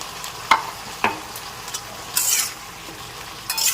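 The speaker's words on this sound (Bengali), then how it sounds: "একটু ভালো করে নেড়েচেড়ে মিশিয়ে নিচ্ছি" Vegetables coated in white sesame paste stirred in a pan, with several distinct scraping and clinking strokes of a spatula over a light sizzle, close by.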